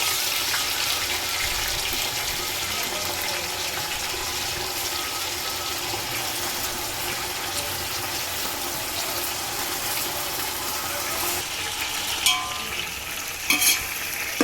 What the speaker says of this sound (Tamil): நல்லா இந்த மாதிரி எண்ணெயில் வந்து கோட் ஆகுற மாதிரி போட்டு நல்லா வதக்கிக்கோங்க